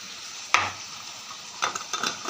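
Chicken pieces are stirred in a frying pan, with a sharp scrape of the spoon against the metal and then a few softer scrapes and clatters over a low sizzle.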